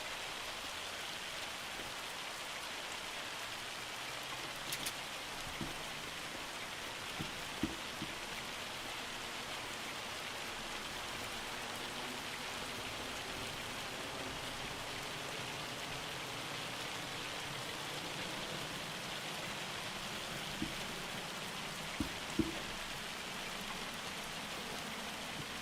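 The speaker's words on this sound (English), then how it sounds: "I will say the hail sound of this game is almost spot on, in my opinion." Hail falls steadily in Farming Simulator 25, a continuous dense patter with no break, joined by a few louder isolated knocks. No voices are heard.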